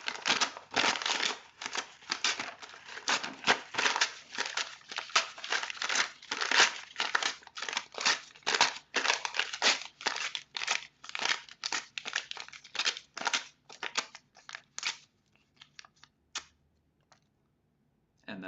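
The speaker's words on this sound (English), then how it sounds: "I'm going to shred this paper into tiny pieces until I have no paper left, and that will be the end of the composition." Sheet paper is torn and shredded by hand into tiny pieces as a musical performance, a dense run of crisp rips and crinkles close by that slows, thins out and falls silent.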